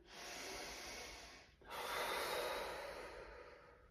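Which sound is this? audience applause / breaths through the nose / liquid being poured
breaths through the nose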